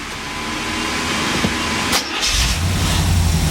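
After a jump start from a JFEGWO 8250A, a car engine catches with a sharp burst and settles into a steady, loud running idle, close by.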